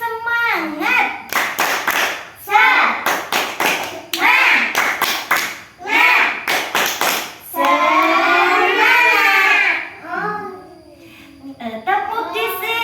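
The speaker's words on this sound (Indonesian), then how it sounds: "kita tepuk semangat dulu yuk. Tepuk semangat." Children play the rhythmic clapping game 'tepuk semangat' in a classroom, sharp hand claps falling in quick patterned bursts between loud chanted voices, close and lively.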